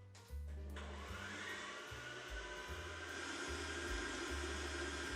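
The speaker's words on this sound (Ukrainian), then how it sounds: "Включаю міксер і перемішую всі ці продукти" An electric stand mixer runs on low speed, blending sourdough starter and other ingredients for Ukrainian Easter bread (paska); a steady, close whirring motor hum that starts abruptly and carries on without pause.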